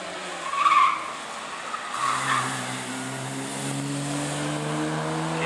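A Citroën 2CV's engine revs and whines as it races past on a hillclimb at Prescott, with tire noise and a rising engine drone, moderately loud and continuous.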